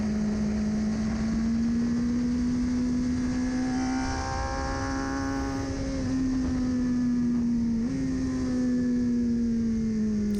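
A BMW S1000RR superbike engine on a Las Vegas racetrack, caught by an onboard camera, drones loudly and steadily with a strong rising and falling tone and a brief dip in revs near the end; no talk.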